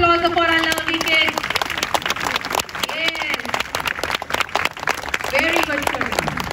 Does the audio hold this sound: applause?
yes